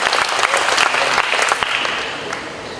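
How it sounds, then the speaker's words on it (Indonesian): A room of content creators at an Indonesian gathering bursts into applause for a maker, dense clapping that swells, holds for about two seconds, then tapers off. "Tepuk tangan bagi Awaneko"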